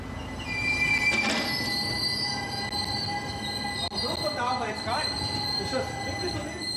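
High, sustained metallic squeals from train wheels ring over a low rumble of rolling rail cars in Chur station, Switzerland, with brief clanks and shifting pitches.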